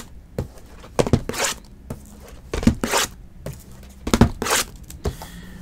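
Foil packs of 2019 Sterling Baseball cards are cut and torn open close by, a series of sharp ripping, crinkling bursts with thumps between them, in uneven clusters.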